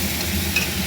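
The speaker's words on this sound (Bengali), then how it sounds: "এবার মশলাটাকে আমি ভালো করে কষিয়ে নিচ্ছি।" Spice masala with a pinch of red chili powder stir-fried in a pan for a vegetable curry; a brief, steady close sizzle with soft stirring, no voices.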